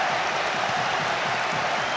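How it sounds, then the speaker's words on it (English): A football crowd at Anfield applauds a goal during the Euro 96 group match between Russia and the Czech Republic: a dense, steady wash of clapping and crowd noise lasting about two seconds at an even level. "just listen to the applause ringing around Anfield"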